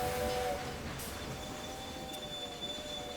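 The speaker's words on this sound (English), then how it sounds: "Pretty fast, these trains." Trains running in the Railway Empire video game, a continuous rumble of rolling rail cars with thin squealing wheel tones, slightly louder at the start and fading a little.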